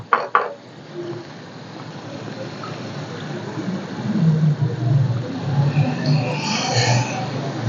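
Crab being stir-fried in a pan: a steady sizzle runs throughout, with a couple of sharp metallic clanks at the start and the frying growing a little louder toward the end.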